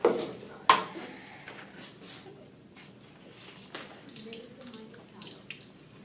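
A tap runs steadily into a sink while someone waits for the water to warm, with a broadband wash of flow, a couple of sharp clunks at the start and occasional small knocks, fairly quiet and close.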